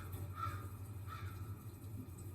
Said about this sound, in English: I'm just experiencing so much wild ambient noise around us with motors and crows and all sorts of stuff.